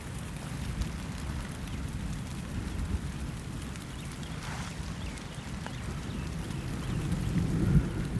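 Steady rain falls outdoors in a scrub conservation area, a dense continuous wash with low rumbling like distant thunder underneath, swelling slightly louder toward the end.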